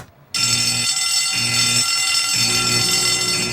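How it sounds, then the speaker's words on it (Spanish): A fire alarm bell rings loudly and continuously after a short quiet moment, its harsh metallic clang pulsing in a steady repeating pattern, with no talking. "Oye, es la alarma de incendio."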